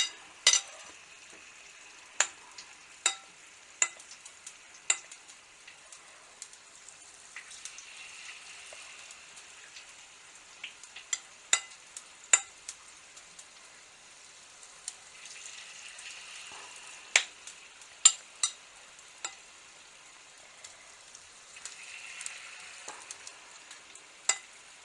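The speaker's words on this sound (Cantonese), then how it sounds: "炸到金黃色" Shredded potato hash browns with pepper salt frying in hot oil in a wok, a quiet steady sizzle broken by sharp, scattered pops and crackles.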